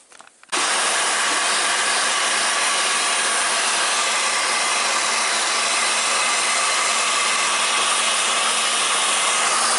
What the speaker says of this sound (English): heat it with a gun and bend it so it goes around the corner